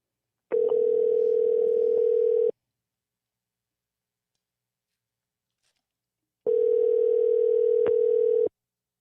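Two long bursts of a telephone ringback tone while a call is placed, each about two seconds, separated by four seconds of silence, steady and clear.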